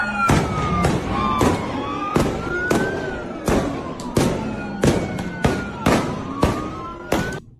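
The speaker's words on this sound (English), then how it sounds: "It sounds like gunshots, but I think it's like there's like these little explosives called M80s." M80 firecrackers going off outdoors, a rapid series of about a dozen sharp, loud bangs like gunshots, spaced roughly half a second apart, with a faint siren-like tone wavering in the background.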